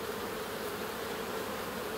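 Steady, dense buzzing of bees, continuous and fairly close, with no voices.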